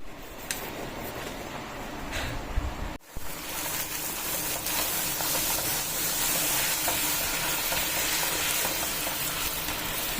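Puri frying in hot oil, a dense, continuous hiss and crackle that surges sharply after a brief dip, close and fairly loud, with no talking.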